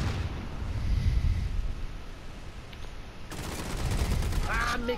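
Rapid bursts of gunfire form a dense, loud crackling barrage that rises, dips and surges again, with a sharper volley near the end and voices faintly mixed in.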